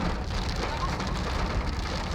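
Heavy rain drums steadily and loudly on a car, a dense, even wash of noise with no breaks and no voices.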